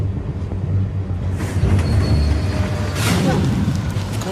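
Inside a train in Japan running behind schedule near Itami, a steady low rumble of wheels and carriage on the rails fills the space with rising noise bursts as it rolls along.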